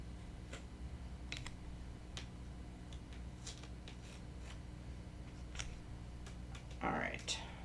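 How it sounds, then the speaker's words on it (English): Faint crisp clicks and a short rustling burst from a die cutting machine cutting out paper words, scattered over a steady low hum with quiet background noise. "I'm just going to die cut those out."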